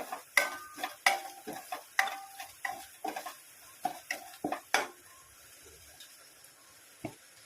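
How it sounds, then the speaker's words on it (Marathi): Masala with turmeric and coriander powder being stirred in a pot for chole, a series of sharp scraping and tapping strokes from a spoon against the pan, rhythmic for about five seconds, then a soft low sizzle and one last knock. "सर्व व्यवस्थित मसाला परतून घ्यावा"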